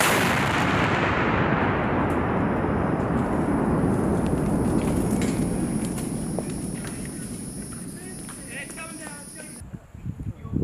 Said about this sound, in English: Second detonation sequence.